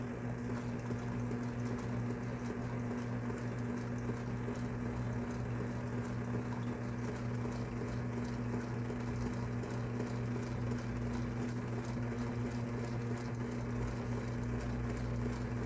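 A Kenmore Sensor Sew 100 sewing machine stitches a buttonhole with a steady, continuous mechanical hum and rapid needle patter, close and alone.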